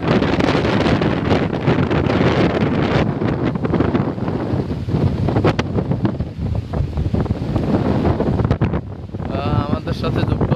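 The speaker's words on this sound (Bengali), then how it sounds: "দেখতে পাইতেছেন কি পরিমাণ বাতাস" Strong wind blows by a river in Patuakhali after Cyclone Remal, roaring and buffeting the microphone continuously with a loud, rough rush, and a voice faintly present beneath it.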